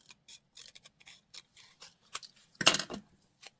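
Scissors cut down a paper label in a craft project with a few short, close snips spaced irregularly, ending in a louder, longer crunchy cut near the end in a quiet room.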